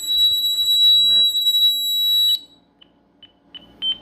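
Honeywell home security alarm sounds during a system test: a steady, piercing high tone rings for over two seconds, then cuts off, followed by a few short, softer beeps.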